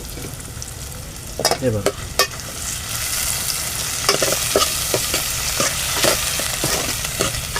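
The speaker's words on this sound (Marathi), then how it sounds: "ढवळून घेऊ" Onion and tomato are stirred as they fry in a pan, a continuous loud sizzle broken by repeated scraping strokes of a spoon. A voice briefly speaks early on.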